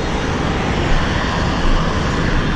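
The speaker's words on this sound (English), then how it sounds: "So let's start with the exhaust note. It starts like this," A Triumph Tiger 800 XRX motorcycle's inline three-cylinder engine idles after starting, giving a steady, dense, loud exhaust rumble with no pauses and no voices.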